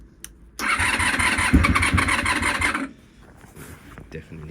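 A Honda VFR400 NC30 motorcycle engine cranks and catches without choke, running loud and close for about two seconds before dropping away, with faint talk afterward.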